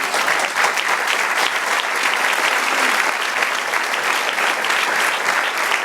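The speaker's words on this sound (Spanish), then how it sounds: "Den un aplauso, Señor." A church congregation applauds steadily and loudly, a dense continuous wash of many hands clapping throughout, with no speech over it.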